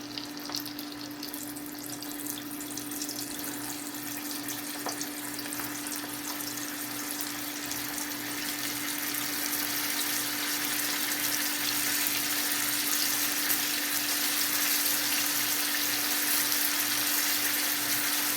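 Gluten-free battered shrimp frying in hot oil: a steady, even hiss of bubbling oil that slowly grows a little louder, with a constant low electrical hum underneath.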